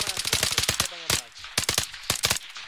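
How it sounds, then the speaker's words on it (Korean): Rapid automatic gunfire in the military shooter Arma 3 sounds as close, loud bursts of sharp shots, with brief pauses between volleys. "누가 이렇게 연발로 쏜 거야?"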